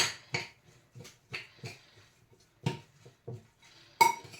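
Spoon stirring a sandwich mixture seasoned with paprika in a bowl, a series of close, separate scrapes and light clinks that come in an uneven rhythm, louder toward the end, with no talk.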